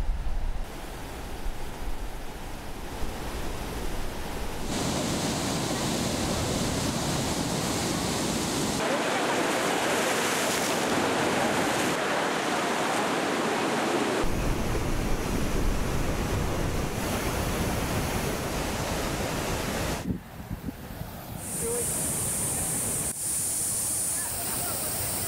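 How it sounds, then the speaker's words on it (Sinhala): Water pouring over overflowing reservoirs in heavy rain, a continuous roaring rush with shifting intensity across several cuts, loud and broadband, with faint voices mixed in. "එමෙන්ම ප්‍රධාන ජලාශ රසක් මේවන විටත් වන්දමා තිබෙනවා"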